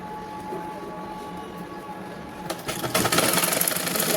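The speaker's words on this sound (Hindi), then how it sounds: "निशान लगाकर कट लगाकर मैं इसको सिलाई लगा दूँगी।" A sewing machine stitches a blouse, starting abruptly partway through as a loud, rapid mechanical whirring close by after a quiet start.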